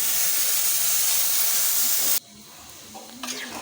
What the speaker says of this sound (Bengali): এখন আমি এর মধ্যে দিয়ে দিচ্ছি ফুটন্ত পানি